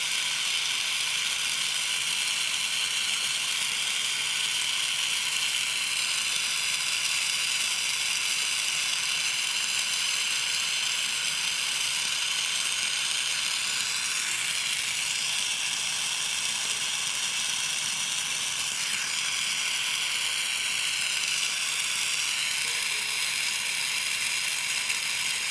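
A glassblower works a glass tube in a steady, loud roaring hiss of a torch flame that runs unbroken throughout, with faint shifts as the tube end is blown out; no talking.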